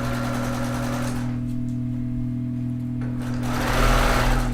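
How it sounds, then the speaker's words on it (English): A sewing machine stitches along a fabric edge on a scrappy notebook organizer project, a loud rapid mechanical whirr that briefly slows and eases off, then surges back up near the end. "I'm sewing kind of along that edge, not on top of the interfacing."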